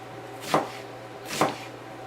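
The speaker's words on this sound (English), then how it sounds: "this is a julienne cut, which is a thin cut, thin slice" A kitchen knife makes a julienne cut, slicing into thin strips about 3/16 inch wide: two separate crisp chops strike the cutting board roughly a second apart, close and clear against a quiet background.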